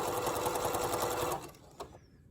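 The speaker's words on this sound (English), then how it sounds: "I'm just stitching down with my zigzag" A sewing machine runs a zigzag stitch down bias tape, a fast, steady close-up whir for over a second that then stops, followed by a small click.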